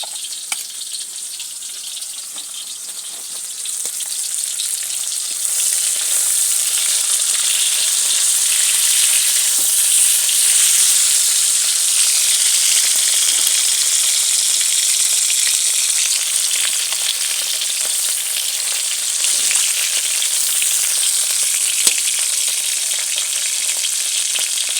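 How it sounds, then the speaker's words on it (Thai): Food deep frying in hot oil, a loud continuous hissing sizzle that swells after a few seconds and holds steady, close by with no talking. "น้ำมันร้อนเลยเอาสิมาทอด กำลังทอดทุกคนนะ"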